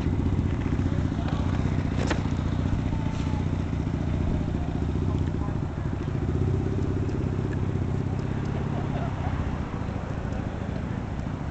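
Motorcycles at a big three-day motorcycle show in Sandy, Utah, give a steady loud rumble of engines with crowd noise, close and continuous throughout, and people talking among the noise.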